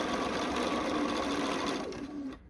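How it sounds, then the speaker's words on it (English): A sewing machine runs a quarter-inch seam across the top of folded fabric pieces placed right sides together for a Ukrainian sunflower window hanging, whirring steadily at close range for about two seconds before slowing and stopping. "I'm just sewing a 1/4 inch seam across the top"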